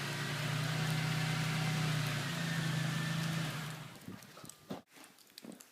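Stock exhaust of a BMW Z3 idling: a steady, low engine rumble close by that fades out into quiet with a few small knocks near the end.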